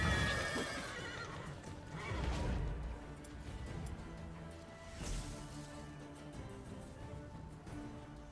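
Roach, a horse in The Witcher 3, lets out a loud whinny as hooves clatter in a galloping rhythm, followed by a crash and further hoofbeats fading under a steady outdoor ambience.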